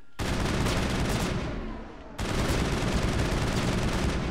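Sustained gunfire from the Mass Effect video game, dense rapid bursts that briefly dip before resuming at full intensity, loud and continuous with no talking.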